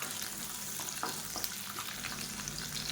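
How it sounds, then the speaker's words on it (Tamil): Steady sizzling of garlic and ginger sautéing in a hot pan with occasional stirring scrapes, continuous and close, no voices. "இப்போ இது எல்லாத்தையும் நல்லா வதக்கிக்கலாம்"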